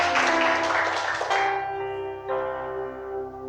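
A church congregation claps in a loud, dense burst of applause during a worship service while sustained keyboard chords play, the clapping fading after about a second and a half and leaving the held music ringing.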